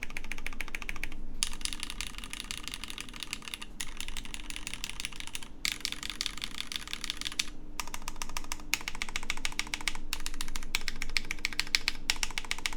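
Steady, continuous typing on a KBDfans Athena 1800 keyboard fitted with Nixies keycaps, crisp clacky keystrokes in quick runs broken by brief pauses, close-up and without talk.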